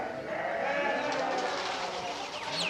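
A Muzaffarnagari sheep bleats in a livestock pen among other farm animals, with people talking over the calls at close range.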